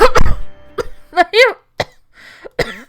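Several sharp coughs come close together, mixed with strained vocal sounds and throat noises.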